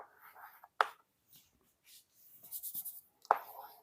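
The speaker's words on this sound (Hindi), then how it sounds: "तो मैं क्वेश्चन लिख रहा हूं" A question being written on a board, with two sharp taps and short scratchy strokes of chalk or marker in a quiet room and faint soft sounds between them.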